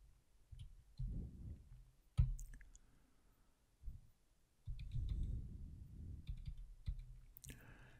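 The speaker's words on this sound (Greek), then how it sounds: "Ας πληκτρολογήσουμε ακόμα ένα κωδικό είδους." Quiet keystrokes and clicks on a computer keyboard while an item code is entered into software, coming in short irregular bursts with soft low thumps between them.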